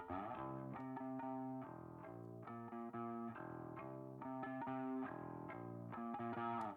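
Bass guitar played through a Steinberg VST bass amp rack, distorted and mid-heavy with the low end cut and reverb added, plays a steady riff of repeated notes, loud and sustained throughout with no voices.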